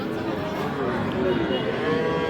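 Young bull calves at a rural cattle market in Dinajpur, a continuous low mooing and bellowing up close over a busy background murmur of livestock and people.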